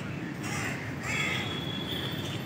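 Crows caw in Hanuman Garden in Fort, Mumbai, a few harsh calls near a birds' drinking pond, mixed with city ambience and a voice talking.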